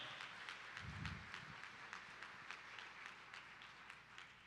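Scattered applause from a charity gala audience, light and a little distant, steady for a few seconds.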